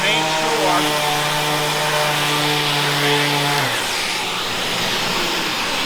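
A power sander with cord and dust hose drones loudly and steadily close by, sanding a mitered door, its motor pitch holding level before dropping as it winds down.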